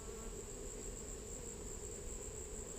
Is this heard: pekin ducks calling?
no